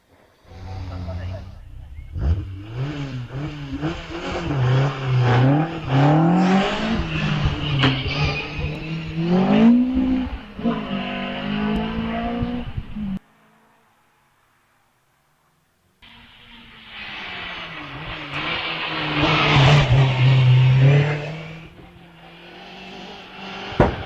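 Racing car engine climbing the hill at a Wiscombe Park hillclimb held by the 500 Owners Association, loud and close, revving up and down repeatedly through the gears, then a few seconds of silence before another strong burst of engine noise.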